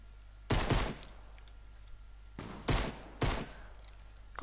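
Sniper gunfire in a video game: a loud crack with a rattling tail, then after a pause two more sharp bursts close together, heard over a low steady hum.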